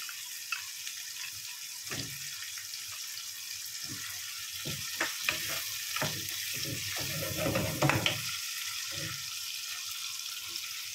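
Anchovies sizzle gently in a pan for puttanesca sauce, a soft, continuous frying hiss broken by occasional stirring scrapes and clinks from a spoon.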